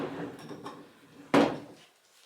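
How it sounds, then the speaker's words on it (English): A door swung shut in a home during spring cleaning, a single sharp thud near the end after a stretch of quiet room noise. "I can go ahead and close the door."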